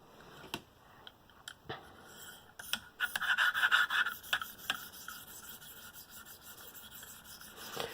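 A KME sharpener draws a 1500 grit stone across an M4 Manix blade in repeated soft rubbing strokes, with light clicks and taps between passes, quiet and close.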